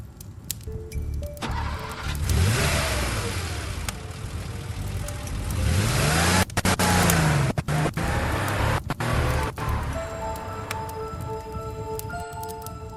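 Car engines starting and driving off, with cranking and revving that swells and recedes as vehicles pass, broken by sharp clicks and brief gaps.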